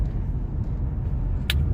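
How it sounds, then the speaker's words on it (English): Road traffic rumbles steadily, a dense low roar of passing cars heard from close by, with a brief sharp hiss partway through. "there's hella traffic today"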